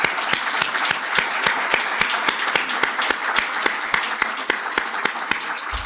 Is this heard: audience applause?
yes